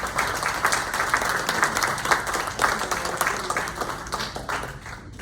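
An audience applauds steadily throughout, a dense wash of many hands clapping at an even level that eases slightly toward the end.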